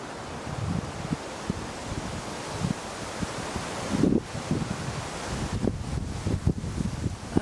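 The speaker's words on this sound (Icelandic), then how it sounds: "Það svolítið mikill vindur hérna." Strong wind gusting around a very large English oak, a steady broadband roar with rustling leaves, growing louder and more turbulent in bursts toward the end, with no talking.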